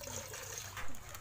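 Water from a roughly 12-liter load is poured while a mushroom composting area is cleaned with detergent, a short, soft trickling and gushing stream with a brief louder surge.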